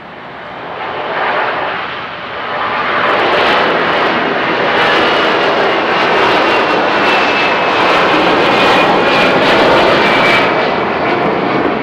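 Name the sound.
Boeing 757 jet taking off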